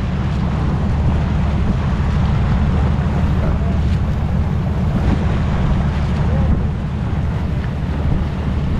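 Sea waves wash around a loaded fishing boat out on open water, a steady loud roar of surf and water mixed with heavy wind buffeting the microphone, with no voices.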